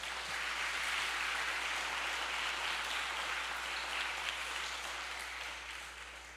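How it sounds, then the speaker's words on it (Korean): Dense, steady applause from a large church congregation of about 600 people, a continuous wash of many hands clapping close and loud with no voices, tapering slightly near the end. "우리 박수 한번 쳐줄까요?"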